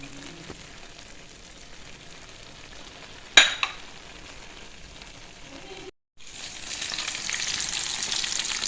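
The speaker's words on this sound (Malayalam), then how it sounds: "ചിക്കനും കൂടി ഒന്ന് പൊരിച്ചെടുക്കട്ടെ" Pieces of chicken frying in sunflower oil and ghee, a steady soft sizzle with a sharp clatter partway through, a brief gap, then a louder, brighter hiss of fresh frying.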